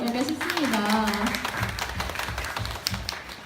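An audience at a book concert claps in a short scattered burst that follows a speaker's voice, the applause fairly faint and mixed with lingering talk.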